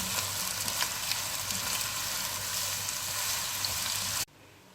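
Onions sizzling golden brown in hot oil for chicken biryani, a dense steady crackle and hiss filling the frame, close and loud, cutting off abruptly near the end.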